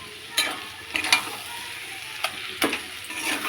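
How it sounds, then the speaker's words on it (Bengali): Leafy greens (shak) sizzle in a pan while being stirred, with a steady frying hiss broken by several scraping bursts from a utensil turning them. "তো দেখো হচ্ছে শাকটা নাড়া দিই"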